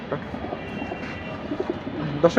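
Domestic pigeons, a deep blue Jabra Pankhi collection, coo softly in a loft with a steady low murmur, a few louder coos near the end as people talk nearby.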